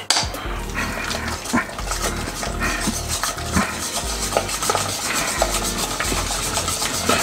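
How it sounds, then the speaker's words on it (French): A whisk beating choux cream dough in a bowl, rapid rhythmic scraping and clinking of metal against the bowl, close and steady throughout with no talk. "on va pouvoir prendre le fouet"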